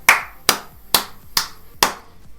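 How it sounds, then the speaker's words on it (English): Five single, sharp hand claps, close and evenly spaced about half a second apart, each one crisp with a quick decay into a quiet room. "Clapping to get back in time with my audio."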